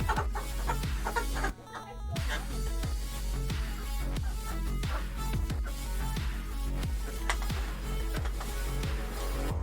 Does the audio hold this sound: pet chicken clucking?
yes